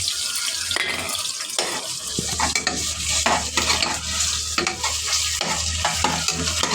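Ginger garlic paste sizzles in a pan with sautéed onions and green chillies, a steady loud frying hiss with scraping stirs throughout, close up and without talk.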